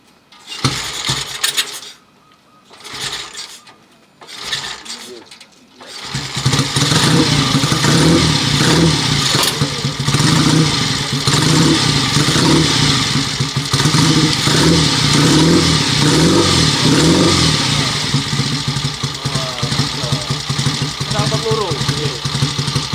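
A blue 1955 BMW motorcycle engine runs loud and steady close by, with a few short bursts at first and then a continuous rumble. Voices talk over it.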